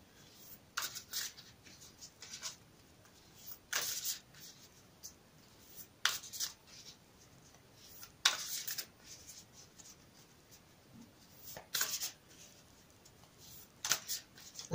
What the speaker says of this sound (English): I'm always like to give them a little quick shuffle for you on camera